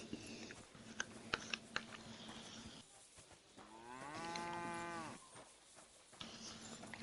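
A single long cow moo in the video game Kingdom Come: Deliverance 2, fairly close and rising out of a busy background of light clatter and ambience, with no talking over it.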